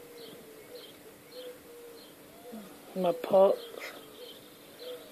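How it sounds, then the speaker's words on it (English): Faint birds chirp and call in a garden at sunrise, soft and intermittent in the distance, with someone speaking briefly over them. "There's another bird."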